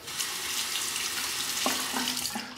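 A Parker 64S stainless steel razor is rinsed under running tap water, giving a steady close rush of water with a few brief splashes and knocks as it passes through the stream.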